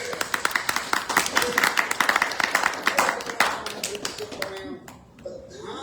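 An audience claps hands together during a spiritual talk in Kuala Lumpur, a dense, steady burst of many overlapping claps close by that thins out and fades near the end.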